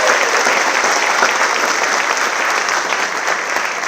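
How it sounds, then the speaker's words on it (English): An audience at a student award ceremony breaks into loud, sustained applause, a thick, constant wash of many hands clapping throughout. "Let's give them a round of applause"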